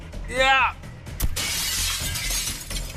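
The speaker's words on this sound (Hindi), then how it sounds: "ये कांच तो चकनाचूर हो गया।" Glass shatters with a sharp crack followed by a long bright spray of breaking fragments, loud and close, preceded by a short vocal exclamation.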